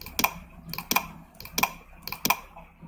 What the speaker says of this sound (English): press and hold Control on the keyboard whilst you select the rest